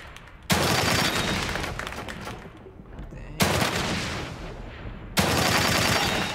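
Loud gunfire bursts from the video game The Evil Within 2, three heavy volleys each followed by sustained rattling and echo, close and dominant.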